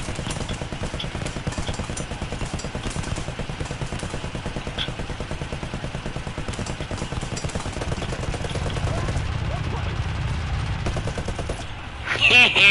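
An aircraft machine gun fires in War Thunder air realistic battles, a long, rapid, steady rattle over a droning engine that breaks off near the end.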